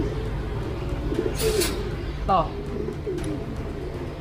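Racing pigeons coo softly in a loft, low throaty calls with a brief flutter of wings, while someone talks over them.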